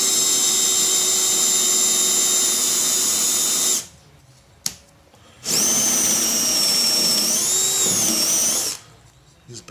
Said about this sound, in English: Then I'm going to take a Forstner bit. I think this is 3/4.